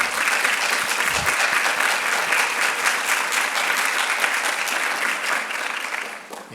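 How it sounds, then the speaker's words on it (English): A crowd at a physician assistant white coat ceremony applauds families and friends, a sustained dense burst of clapping that fades slightly at the end. "let's give them a round of applause"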